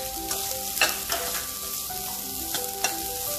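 Green beans and carrots sauté in a pan for corn soup with a bright, even sizzle close by, punctuated by a few quick scraping stirs and no voices.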